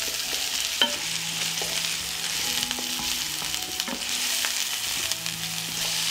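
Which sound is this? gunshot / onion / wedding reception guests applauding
onion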